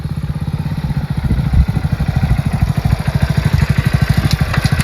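A motorcycle engine running close by: a loud, rapid, even low putter of firing pulses, steady throughout with slight rises in intensity, no talk over it.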